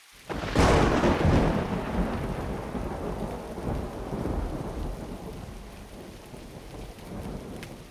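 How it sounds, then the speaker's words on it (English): A loud thunderclap rolls overhead amid a thunderstorm, its rumble slowly decaying while steady heavy rain pours on surfaces throughout. "The sound of thunder overhead was accompanied by a bright flash of lightning."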